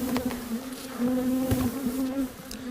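Steady, droning hum of honey bees buzzing inside a hive, close and continuous, with a low tone and occasional individual bees flitting past.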